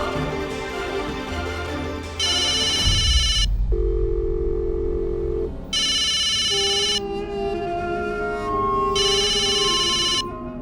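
Telephone ringing in a tense household scene, loud electronic ring bursts repeating three times with short pauses between them over soft background music.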